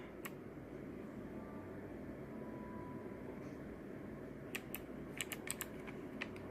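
Clicky keystrokes on an Andes low-profile mechanical keyboard, scattered singly at first and then in a quicker cluster of taps near the end, over a steady room hum.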